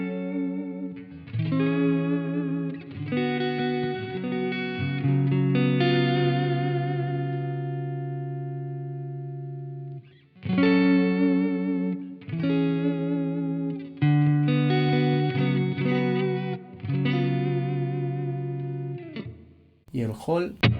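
Electric guitar played through the Blackstar St. James amp plugin with reverb switched on, sustained chords and ringing notes with long reverberant tails, loud and close, with a pause midway before the strumming resumes.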